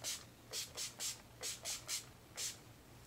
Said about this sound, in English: I'm going to throw some setting spray on